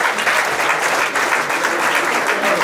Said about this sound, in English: big round of applause for Rich Hughes.